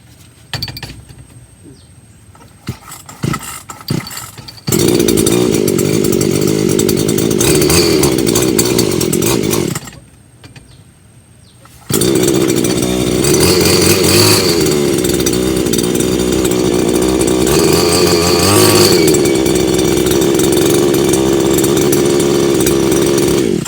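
A brush cutter's small two-stroke engine starts and runs at a steady high drone, cutting out briefly midway before restarting and running loud and continuous.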